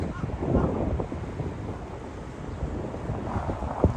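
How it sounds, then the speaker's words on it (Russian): Gusty shoreline wind near an airport bridge on the Pacific coast, a steady low rumbling roar buffeting the microphone with slight surges throughout, with no voices. "На берегу этот ветер."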